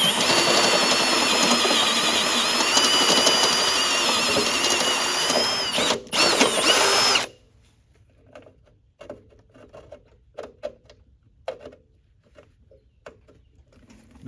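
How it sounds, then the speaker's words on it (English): A power drill bores a hole into an empty lawn mower tank, a loud, continuous high whine lasting about seven seconds with one brief dip, then stopping abruptly and leaving quiet scattered knocks and handling sounds. "That's where we're going to drill."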